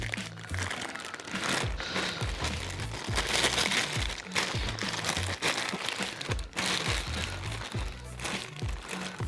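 Plastic piping bag crinkling and rustling up close as it is handled and snipped at the tip, a steady run of crackling crinkles with a few sharper crunches and no talking.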